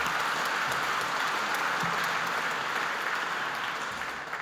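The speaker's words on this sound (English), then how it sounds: "another round of applause" Sustained, loud applause from an audience at a governing body inauguration ceremony, steady and dense throughout, clapping for newly elected councillors.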